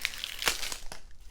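Wrapped board game card decks being opened, crisp plastic crinkling and crackling in a few close, bursty rustles.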